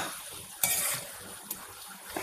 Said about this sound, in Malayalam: നല്ല ചൂടുള്ള വെളിച്ചെണ്ണ നല്ല ഇട്ടേക്കണത് പോളച്ച് പൊളിച്ച് വരുന്നുണ്ട്